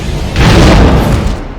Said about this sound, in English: an Uber box that sends us flying away from an explosion